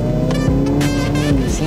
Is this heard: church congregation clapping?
no